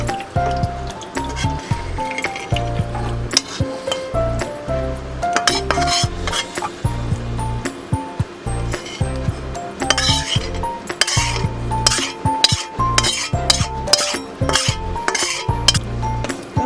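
Food poured and scraped into a bowl, with repeated clinks and clatters of a utensil against dishes and pots, busy and close throughout, no talk.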